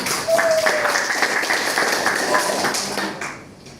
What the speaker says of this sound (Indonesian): tepuk tangan untuk Mbak Nelita